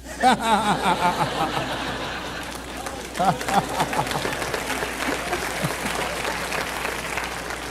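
Audience at a motivational talk breaks into sustained applause with scattered chuckles and laughter, loud and steady throughout, with some crowd noise mixed in.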